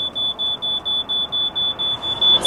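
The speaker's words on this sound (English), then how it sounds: "Do we have like a smoke detector or something?" A smoke detector inside a van pulled over on a highway beeps in a fast, steady series of loud, shrill chirps, about a dozen in a row with no talking.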